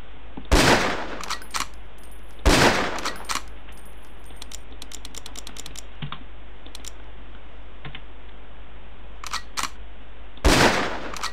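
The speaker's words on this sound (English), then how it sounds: "The sniper rifle is equipped with a scope for long-range shots." Sniper rifle shots in the Ghost Recon video game, fired at long-range training targets: a few sharp, loud cracks spaced seconds apart, with lighter clicks and ticks between them.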